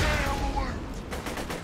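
Explosions and rapid gunfire from the PC shooter Borderlands 2 form a dense, loud burst of crackling blasts that tails off into scattered shots and mechanical clatter.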